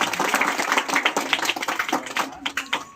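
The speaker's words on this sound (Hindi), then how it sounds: "तालियां बजाओ।" Children clap on command during a quiz session with a storyteller, uneven and scattered clapping from a small group at close range, somewhat ragged in rhythm, with faint voices underneath.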